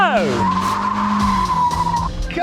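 Mazda MX-5 Miata race car sliding sideways onto grass, tires scrubbing and engine droning with a long steady whine, a driver's voice shouting over it.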